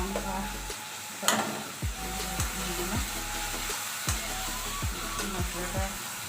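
Cumin, turmeric and chili spices frying in a hot pan make a steady close sizzle, broken by stirring scrapes and a few sharp spatula knocks on the pan.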